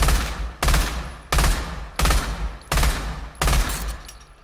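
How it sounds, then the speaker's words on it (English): Six loud, close gunshot bursts from a Glock pistol in the VR shooter Pavlov, evenly spaced about every two-thirds of a second, each a sharp cluster of rapid rounds with no talk. "The Glock right now has like fully automatic. So if I pull the trigger, it'll just keep firing until it's empty. Or no, it has a 3-round burst."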